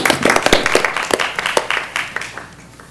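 Applause fills a city commission meeting chamber, a dense round of clapping from many hands up close that gradually thins and fades toward the end.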